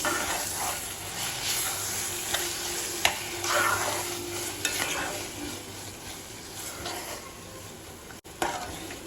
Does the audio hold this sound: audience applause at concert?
no